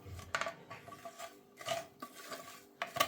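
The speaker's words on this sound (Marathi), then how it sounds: "आता मी याला सतत ढवळत राहणार आहे" A spoon scraping and stirring a thick besan (gram flour) modak mixture in a pan, several distinct scrapes spaced irregularly, close and moderately quiet with no talking.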